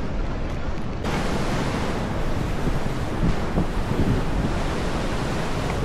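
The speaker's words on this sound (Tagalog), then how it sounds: "Guys, look at the waves." Big surf rolls onto a beach at Siargao, known for its strong waves, giving a broad, constant roar. Heavy wind buffeting on the microphone blurs it, and no voices are heard.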